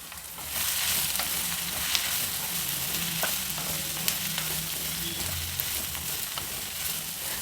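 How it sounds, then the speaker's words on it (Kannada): Chopped beans, cabbage and carrots frying in a little oil on high flame for pulao, a loud continuous sizzle with occasional stirring scrapes throughout. "ಸ್ವಲ್ಪ ಎಣ್ಣೆಯಲ್ಲಿ ಆಲ್ಮೋಸ್ಟ್ ಬೆಂದೋಗ್ಬಿಡುತ್ತೆ ಹುರಿವಾಗಲೇ"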